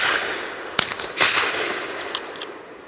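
Shotgun firing during a dove hunt in stormy weather: one sharp, fairly distant crack followed by a couple of fainter pops and rustles against outdoor background noise.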